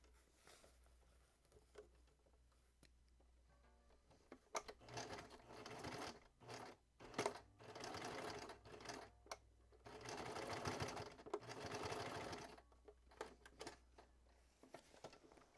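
A home sewing machine stitches in short runs and longer bursts, its rapid needle patter starting and stopping over a low steady hum, close and fairly quiet. No voices.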